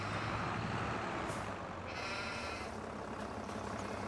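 Sheep bleat inside a pen in the Farming Simulator 22 video game, a dense steady din with a truck-like engine rumble and air-brake hiss mixed in, and no one talking.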